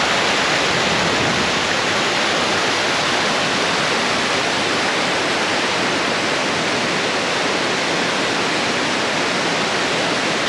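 A waterfall in a Colorado box canyon roars in a loud, unbroken rush of water that fills the whole scene, steady and close, with no voices.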